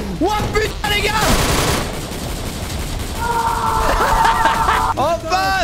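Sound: gunfire in Free Fire Zone video game

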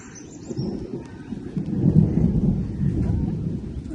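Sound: thunder

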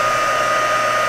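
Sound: heat gun melting embossing powder

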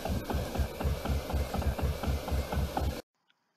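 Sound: tractor engine running in a cartoon

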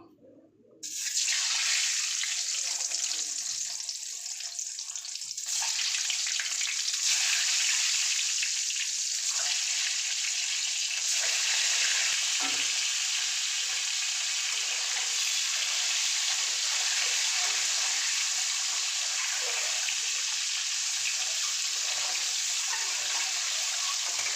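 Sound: eggs frying in oil

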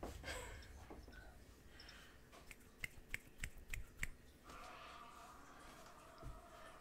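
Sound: finger snapping, a one-handed clap

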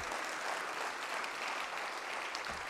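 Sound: applause

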